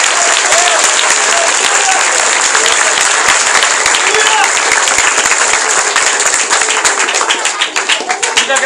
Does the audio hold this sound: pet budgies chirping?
no